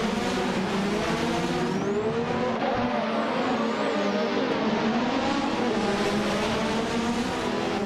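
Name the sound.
race cars starting a race in a video game, 1988 McLaren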